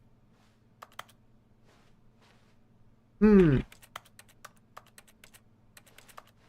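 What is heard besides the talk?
keyboard key clicks from the video game The Stanley Parable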